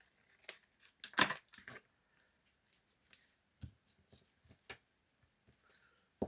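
Scissors snip through paper for a scrappy concertina, a handful of short crisp cuts clustered early, then scattered lighter snips and handling noises, close and fairly quiet with no talking.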